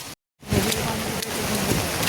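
After a brief moment of silence, steady all-night rain in a Konkan village, flooding the nearby river, comes in as a loud, even hiss that continues without a break.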